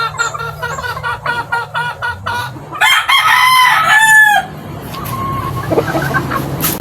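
Chickens cluck in a repeating pattern, then a Paris-breed rooster crows loudly and close, the calls continuing over steady background noise.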